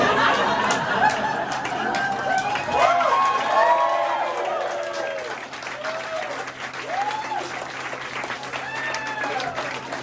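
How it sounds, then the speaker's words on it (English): A stand-up comedy crowd in New Orleans applauds steadily, with whoops and cheers rising over the clapping and some laughter mixed in, sustained at an even level throughout. "Keep that applause going for Ruben-Long."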